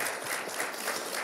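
Applause from a seminar audience, a dense steady patter of many hands clapping throughout, with no voices over it.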